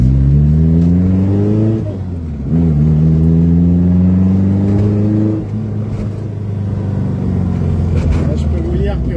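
Vespa 400 microcar engine pulling hard on the road, a loud droning buzz whose pitch climbs steadily through the gears, dipping briefly at each shift before rising again.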